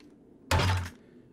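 A weapon reload in the zombie survival game 7 Days to Die gives a single short, solid thunk, close and fairly loud, with no talking over it.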